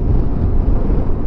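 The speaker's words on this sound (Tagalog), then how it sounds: "Grabe, lakas ng hangin." Strong, steady wind roars and buffets the microphone on an island beach near a boat crossing in Culasi, Antique, a loud, continuous low rumble with no talking.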